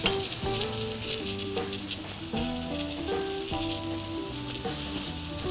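Ahi tuna seasoned with smoked salt sears on a barbecue grill, producing a steady hissing sizzle heard beneath background music.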